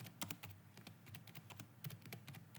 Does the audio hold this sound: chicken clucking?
no